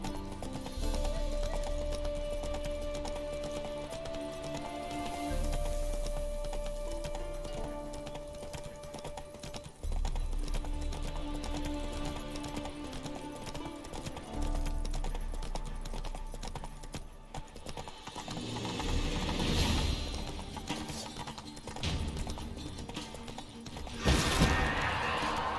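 Horse galloping in the video game The Witcher 3: Wild Hunt, a continuous drumming of hooves under steady game ambience, with occasional louder crashes and swells across the run and no clear speech.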